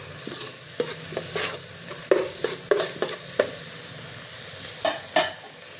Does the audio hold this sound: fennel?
yes